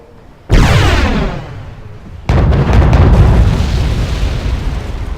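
Artillery fire in a video game: a heavy booming blast that rolls out and decays, followed about two seconds later by a second loud explosion with a long rumbling tail, close and dominant, no talk.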